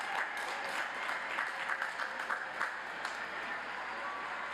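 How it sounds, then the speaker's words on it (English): Parents in a large commencement crowd at a spring university graduation give the graduates a sustained round of applause: dense, steady clapping that fills the hall from start to finish. "parents, if you will stand and give your kids, your loved ones, a big round of applause"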